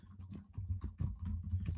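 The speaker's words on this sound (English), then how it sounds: "I love typing live." Rapid typing on a computer keyboard, a steady patter of soft key clicks with a few louder strokes, close and continuous with no voices.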